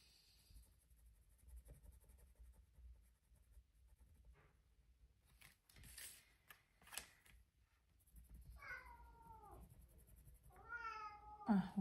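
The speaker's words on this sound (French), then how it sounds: "Ah, vous entendez le chat qui veut sortir?" A cat meows twice, insistent and fairly close, wanting to go out, after a stretch of soft rustling and scratchy writing sounds in a quiet room while a Christmas card is being made.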